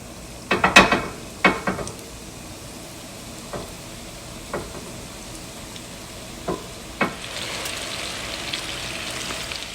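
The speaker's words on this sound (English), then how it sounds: "We are going to go ahead and fry the next batch." Coconut shrimp frying in hot oil, heard as a soft, steady sizzle with several sharp clinks and taps of a utensil against the pan, close and fairly quiet.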